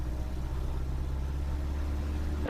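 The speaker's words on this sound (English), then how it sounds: "the test aircraft will start to stand the power up, let the fuel pump spool up, let the prop governor spool up" A modified Lancair aircraft engine runs up before takeoff, a steady low droning hum held at an even level, loud and close, cutting off abruptly at the end.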